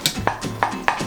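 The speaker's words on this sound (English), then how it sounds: "Now I'm gonna stir it all in together again." A spoon clinks and scrapes against a pot while vegan mac and cheese ingredients are stirred together. The clip holds a few quick, close strokes in about a second.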